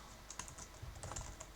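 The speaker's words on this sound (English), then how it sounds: "I have to type git init, then git add, and git commit" Rapid keystrokes on a computer keyboard while git commands are typed, a quick irregular run of close, crisp clicks with no talking.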